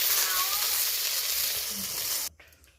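Bhetki fish head frying in hot oil in a wok, a steady bright sizzle that runs loud for about two seconds and then cuts off abruptly, leaving faint residual crackle.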